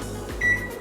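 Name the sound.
microwave oven running, cooking corn on a plate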